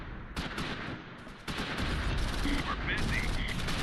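Dense rattling rifle and machine-gun fire from the Close Combat V war strategy game, a continuous loud fusillade of overlapping shots with a few high whistling tones, steady throughout with no clear pauses.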